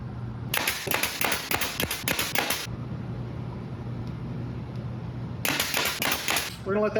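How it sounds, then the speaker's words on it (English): Hammering nails into a wooden mail storage box, heard as two bursts of rapid, sharp, loud impacts separated by a quieter pause with a low steady hum underneath. "we're gonna glue and nail"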